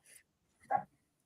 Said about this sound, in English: That's the dog. That's not me.